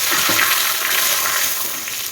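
Bay leaves and cardamom tempering in hot coconut oil on the stove, giving a steady, close, continuous sizzle and frying crackle throughout, with no talking.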